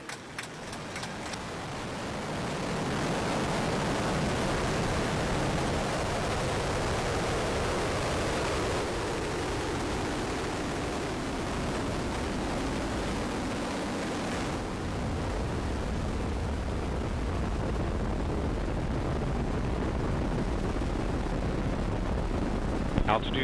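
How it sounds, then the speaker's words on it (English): The Ares I-X rocket ignites and lifts off: a loud, steady, broadband roar rises within the first few seconds and holds unbroken as a dense rumbling wall. "Ignition and liftoff of Ares 1X."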